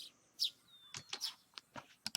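Birds chirping in the Higurashi visual novel game: a handful of bright, quick tweets and short trills spaced irregularly over a quiet background, with no talking.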